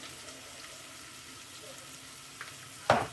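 Vegetables for an omelet cook in a home kitchen pan, a steady soft sizzle that holds evenly throughout, with a short louder clatter or stir near the end.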